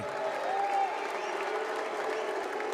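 A college basketball crowd applauds a graduating Oregon Ducks senior during a Senior Night ceremony on the court, giving steady, sustained clapping with a faint tone ringing through the arena.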